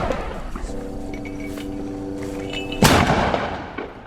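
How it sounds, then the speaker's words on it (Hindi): Heavy mortar shell fired at Israeli soldiers in eastern al-Zaytoun, Gaza: a single loud, sharp blast bursts out partway through over a steady tonal hum, then a rumbling tail slowly fades. "पूर्वी अल जैतून में इजरायली सैनिकों के ऊपर एक हैवी मोटर गोले दागे हैं"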